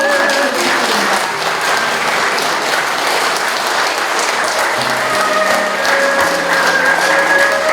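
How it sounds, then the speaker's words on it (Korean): Steady, full applause from a lecture hall audience after a security lecture in Korea, dense continuous clapping filling the whole stretch at close range. "다시 한번 박수드리겠습니다."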